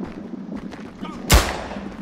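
A single sharp, loud gunshot in the World War I shooter game Verdun cracks out near the middle, rising over a low background murmur of battle noise and faint voices.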